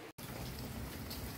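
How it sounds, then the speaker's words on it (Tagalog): Steady rain falls on a banana harvest site, a dense continuous hiss of drops hitting surfaces, fairly close, after a brief cut at the start; no talking. "Naulan kasi kaya binilisan na."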